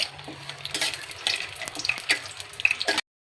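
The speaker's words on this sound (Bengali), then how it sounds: "দিয়ে দিব সরষের তেল, দিয়ে দিব তেজপাতা, দিয়ে দিব শুকনা মরিচ" Bay leaf and dried chili frying in mustard oil, a close crackling sizzle with scattered sharp pops and spatter that stops abruptly at the end.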